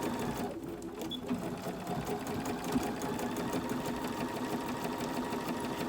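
A sewing machine stitches along the raw edges of a placemat tote bag, running slowly through multiple fabric layers with a steady, continuous mechanical whir and needle chatter close by, with no talking.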